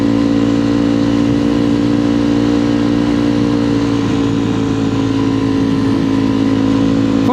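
A motorcycle engine runs steadily at low revs, a constant close mechanical drone with a humming tone and no clear revving.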